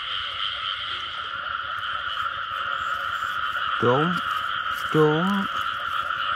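Frogs croak at night in flooded rice fields, with a constant high drone of insects throughout and two short, warbling croaks near the middle, while someone speaks briefly.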